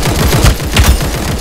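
Gunfire in the mobile battle-royale game Omega Legends, a loud, rapid burst of repeated shots that keeps going without a pause and has no talk over it.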